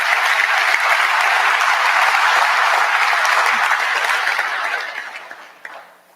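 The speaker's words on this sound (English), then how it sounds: "let's give her another round of applause." Audience applause for Senior Airman Miller at a military gathering, broad, steady clapping from a large crowd that holds for about four seconds and then tapers off to silence.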